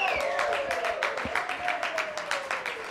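A crowd applauds and cheers at a racquetball match between Gutierrez and Bredenbeck, claps rippling in steady bursts across the clip with a faint sliding tone and thuds underneath.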